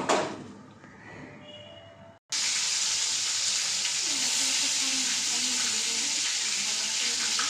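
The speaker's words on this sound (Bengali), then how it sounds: "তো আমি কড়া বসিয়ে দিয়েছি মাছ ভাজার জন্য" Bhola fish coated in salt and turmeric goes into hot oil in a wok. After a short, quieter stretch of kitchen sounds, a loud, steady sizzling hiss bursts in and carries on to the end.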